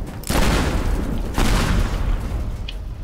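Explosions in the video game Teardown, two heavy booming blasts about a second apart, each trailing into crackling rumble and debris, loud and close.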